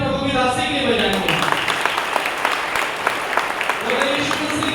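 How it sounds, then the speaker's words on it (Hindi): Applause from a church congregation after a prayer, a dense, steady wash of clapping lasting throughout, with a voice and some musical tones sounding over it at the start. "आइए जोरदार ताली प्रभु की दासी के लिए बजाएंगे"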